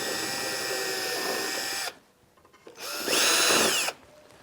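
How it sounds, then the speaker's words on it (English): Power drill boring a pilot hole through a wooden pedal car bonnet part held level on a bench, two loud sustained whines separated by a brief quiet pause, the second burst higher-pitched and harsher. "be careful not to lift the drill, otherwise you'll go through the side rail"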